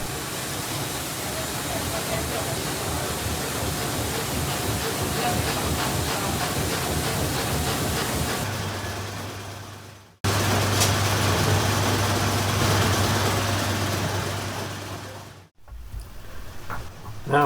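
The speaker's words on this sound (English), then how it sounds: "Now we're going down to the bottom to see the full glory of the double expansion compound steam engine." Aboard a steamship, a double expansion compound steam engine runs with a loud, continuous hiss and dense mechanical churning, holding steady before breaking off abruptly twice.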